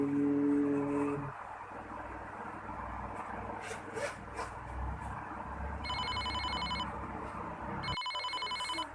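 A telephone rings in two separate electronic bursts against a quiet room with faint handling noise.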